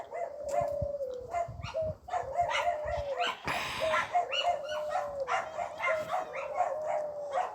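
Several dogs bark repeatedly in quick bursts, with some yips and whimpers mixed in, fairly close and loud throughout.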